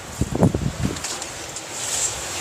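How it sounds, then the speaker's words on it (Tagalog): Strong wind buffets the microphone outdoors as a steady rushing roar, with louder low gusts and rustling early on. "Lakas ng hangin."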